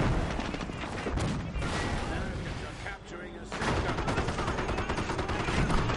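Heavy artillery barrage in a real-time strategy game, a dense roar of booming impacts and rattling gunfire with a brief lull midway before the blasts resume, loud and close, with faint voices mixed in beneath.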